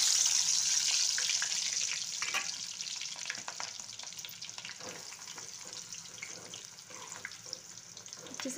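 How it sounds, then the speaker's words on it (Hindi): Sliced onions, three medium ones cut into rings, deep-frying in hot oil for a bitter gourd snack, a steady sizzling hiss with occasional crackles and light stirring, no voices. "अच्छे से प्याज तल लेते हैं अच्छे गहरे तेल में इनमें गोल्डन होने तक।"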